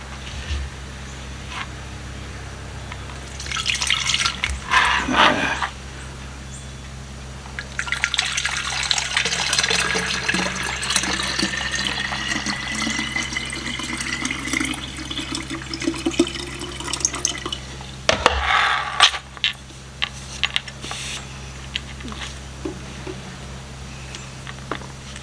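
Water poured into an 18th-century-style leather canteen, a steady trickling and splashing stream running for long stretches with a louder splash near the end, heard alone.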